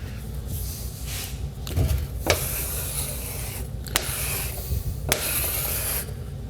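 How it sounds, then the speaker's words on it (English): A squeegee is dragged through spilled transmission fluid during a Turbo 350C transmission rebuild from a 1982 Chevrolet pickup. Several soft, wet scraping strokes come close by, with a few sharper scrapes in between. "Let's slide this thing over here and squeegee some of this out of here."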